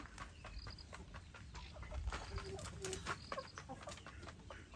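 A hen clucks faintly in a scattered, intermittent pattern among other chickens in a quiet outdoor setting.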